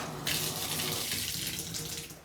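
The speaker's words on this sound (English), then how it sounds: "Yeah, water pressure is all good." Water gushing from a bathtub faucet in a rental home, a steady hissing rush that starts abruptly after a brief quieter moment and continues without voices.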